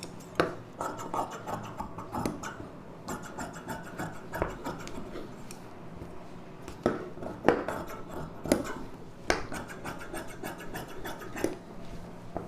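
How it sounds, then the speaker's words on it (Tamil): Scissors cutting folded blouse fabric for a designer blouse, giving a run of close, crisp snips and scratchy rubbing sounds in an irregular rhythm, with no talking. "இந்த அளவு வச்சு அப்படியே கட் பண்ணிக்கலாம்."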